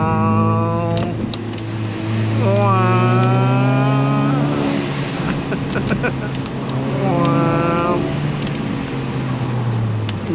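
A loud 1.4-litre car engine tuned to stage 3 revs up and down in rising and falling sweeps, heard from close by with a person talking over it.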